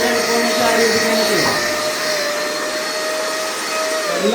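A handheld vacuum cleaner runs steadily with a brush fitted straight onto the unit and no pipe, a constant loud whine with a faint voice underneath.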